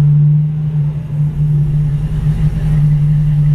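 A 1953 Buick Super Convertible, the first-year V8, idles steadily up close with a loud, constant low hum and no talking.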